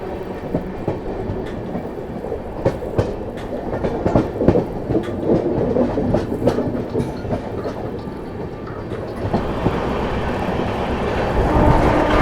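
The 22539 Mau–Anand Vihar Terminal Superfast Express runs on rails while being switched onto the centre line, with a steady near rumble and rhythmic clickety-clack of wheels over joints and no voices.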